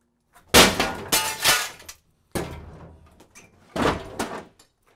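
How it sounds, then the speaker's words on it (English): A glass pane in log cabin glazing is struck hard during a strength test, with three loud separate impacts ringing with clangs and rattles, beading knocked loose, and no talking. "I actually managed to knock the beading out before I broke the glass"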